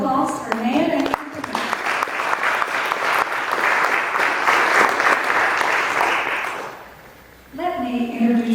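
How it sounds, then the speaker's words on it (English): Audience applause for Nan fills a kitchen-themed gathering, a loud sustained wash of clapping running several seconds, with speech heard before and after it. "a round of applause for Nan and"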